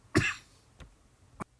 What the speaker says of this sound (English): Got a bit of a coughing fit again.